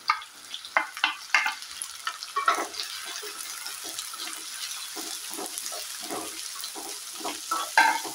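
Sliced shallots sautéing in a pan for a Kerala chicken and pidi dish, with a hiss and a series of distinct scraping stirs that are bunched at the start and grow sparser later.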